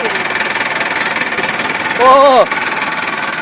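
A tractor engine idles nearby with a steady, rhythmic thumping chug that runs throughout, briefly joined by a short spoken exclamation from a person.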